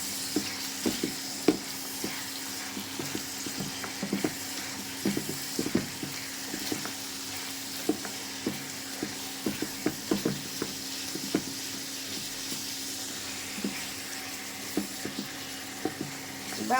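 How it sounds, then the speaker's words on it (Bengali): Onion paste, garlic paste, ginger paste, chopped onion and bay leaves fry in oil for a country chicken curry. A steady close sizzle runs throughout, with frequent light stirring clicks and scrapes. "পেঁয়াজ বাটা 1 টেবিল চামচ, রসুন বাটা 1 টেবিল চামচ, আদা বাটা 2 চামচ আর পেঁয়াজ কুচি আর তেজপাতা তেলে দিয়ে এখন ভেজে নেব"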